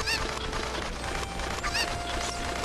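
Cuccos, the chickens of The Legend of Zelda: Ocarina of Time, give off a burst of high, warbling squawks near the start and again midway, set over a dense, busy game soundtrack.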